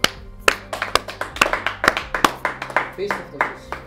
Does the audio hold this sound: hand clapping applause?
yes